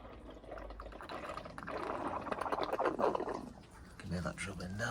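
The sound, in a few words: water poured from bottle into BMW car footwell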